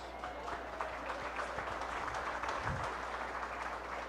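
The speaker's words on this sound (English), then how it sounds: "Let's give them both a round of applause." Applause from a crowd at a county fair contest, a steady wash of clapping heard at moderate distance without a break.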